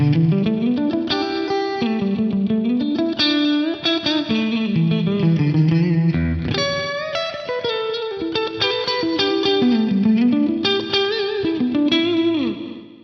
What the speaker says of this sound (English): it almost kind of sounds like an early digital reverb or something like that